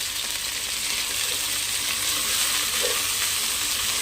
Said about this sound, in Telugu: ఒక 2 మినిట్స్ వరకు ఫ్రై చేద్దాం.